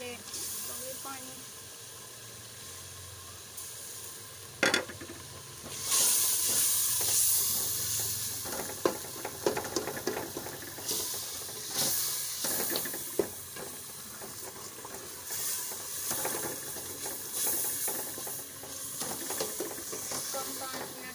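Chicken frying in a pan with green chilies and a little water, a steady loud hiss and sizzle with occasional stirring clatter, close by and continuous.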